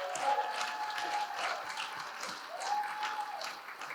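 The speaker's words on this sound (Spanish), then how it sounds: "un aplauso enorme para Simi Larrat" An audience applauds for Simi Larrat, a Brazilian activist and national secretary, with steady dense clapping lasting throughout, fairly close and even, with some tonal music underneath.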